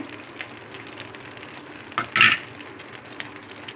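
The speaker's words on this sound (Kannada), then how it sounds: "ಈಗ ನಾನಿಲ್ಲಿ ಹುರುಬಿಟ್ಕೊಂಡ ಮಸಾಲವನ್ನು ಇಲ್ಲಿ ಹಾಕ್ತಾ ಇದ್ದೇನೆ" Chicken frying in ghee with roasted masala, a continuous close sizzle with a brief louder burst of crackling and stirring near the middle.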